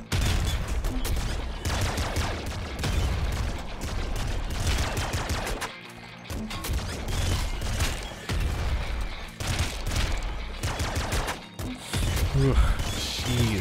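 Rapid gunfire and crashing impacts in the Nuclear Throne video game, loud and dense almost throughout, with a brief lull midway and a voice talking over the shooting.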